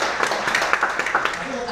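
A crowd applauding at a direct-sales meeting, with scattered individual hand claps standing out over a steady wash of clapping for the whole stretch, fairly full and close.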